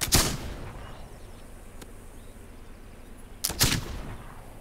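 Two loud, sharp rifle gunshots ring out in the video game This Land Is My Land, one at the start and another a few seconds later, each with a short echoing tail over quiet outdoor ambience.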